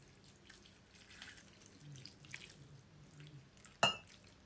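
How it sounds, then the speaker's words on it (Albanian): Water is poured over pieces of meat in a baking tray, a faint trickle and splash in a quiet kitchen, ending in one short, sharper splash near the end. "dhe sipër do t'i hedhim ujin."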